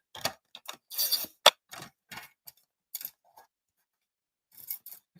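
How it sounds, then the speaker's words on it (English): A series of short, crisp slicing and scraping sounds, irregular bursts close up with brief silences between, as a paper trimmer's blade cuts through paper. "I will trim it again with my trimmer"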